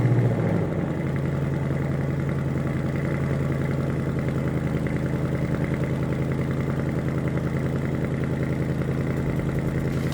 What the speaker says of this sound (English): Now let's turn the car on.